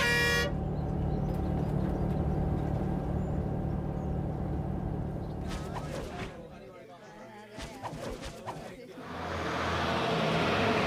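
A bus pulls in with a long, sustained horn blast that holds for several seconds over engine rumble, then cuts off amid passing traffic noise.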